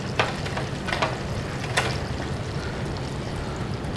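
Chicken pieces frying in hot oil for Al Baik-style fried chicken, a steady loud sizzle and crackle with a few sharper splashes or stirs, close and continuous with no voices.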